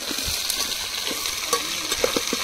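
Jackfruit bulbs frying in hot tempering oil over an outdoor stove, giving a steady sizzle with scattered stirring clicks and pops, close and moderately loud, with no voices.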